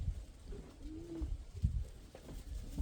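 Soft pigeon coos murmur faintly close by amid low rustling and scuffing noise, a few gentle throaty calls rising and falling.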